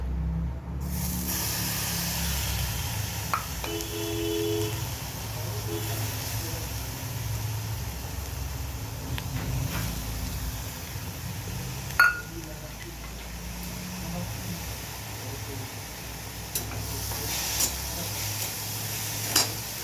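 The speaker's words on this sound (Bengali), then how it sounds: "এবারে শুকনো কড়াইতে এটাকে ভেজে নিই।" Dry red lentils rattle and scrape in a hot dry wok as they are stirred steadily, with a few sharp clicks and a low background rumble.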